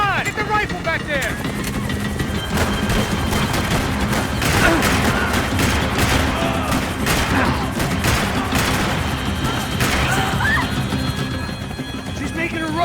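Sustained gunfire during a chase in Max Payne 3, dense overlapping shots and bursts running throughout amid engine roar, hoofbeat-like clatter and shouting voices, loud and busy for the whole stretch.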